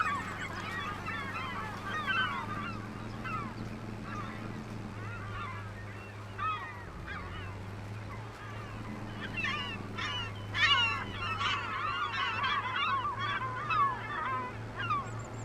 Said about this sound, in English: I thought the seagulls were great, but I didn't realize how noisy they were.